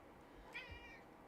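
Indoors, a cat gives one short, faint meow against quiet room noise.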